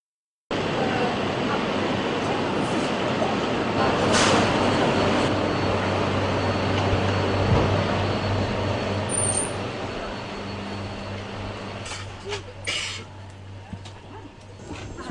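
Steady low rumble and hum inside a moving train carriage travelling from Lund toward Copenhagen, with rattles and brief squeals, the drone easing and becoming uneven near the end.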